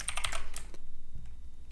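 Rapid keystrokes on a computer keyboard while entering C++ code, a dense flurry of close clicks at first, then thinning to a few scattered taps.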